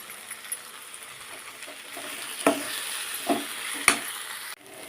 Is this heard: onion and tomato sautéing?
yes